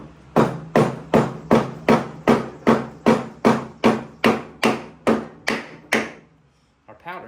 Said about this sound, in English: Now I'll tap it on in there. Well, where's that big hammer?